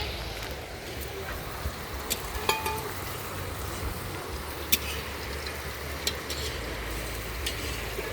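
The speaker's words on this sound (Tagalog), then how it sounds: "Ginisang hotdog" Hotdogs sautéing in a pan give a steady sizzle under low background rumble, with a few sharp clicks and taps scattered throughout.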